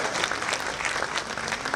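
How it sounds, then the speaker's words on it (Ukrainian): Stormy applause from a crowd at an Independence Day celebration in Cherkasy, a dense, steady wash of many hands clapping close by with no voices on top. "У нас за сценарієм в цьому місці заплановані бурхливі оплески"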